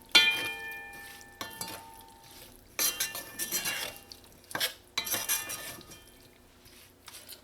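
Fish seasonings being stirred in a metal pot for Trinidad curry fish, with clinking and scraping of a spoon against the pot in uneven bursts, close and fairly quiet.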